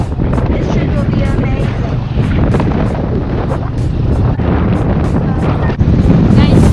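Open tuk-tuk ride through Siem Reap, Cambodia, with steady loud wind rush and road rumble filling the whole stretch, voices faintly mixed in.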